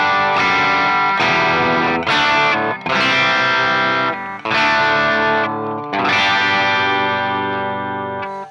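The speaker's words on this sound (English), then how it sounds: "it starts to break up a lot sooner and you're starting to get that really classic crunchy Marshall sound" Electric guitar through a Marshall SV20H plexi-style amp at lower volume, breaking up into a crunchy overdriven tone; several loud sustained chords ring out in turn, close and alone.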